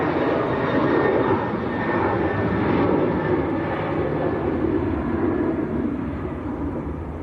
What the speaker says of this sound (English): Can you believe the little Cessna that's come down from Reykjavik has been in the air for 7 hours?